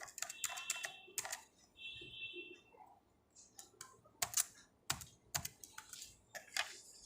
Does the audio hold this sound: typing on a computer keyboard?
yes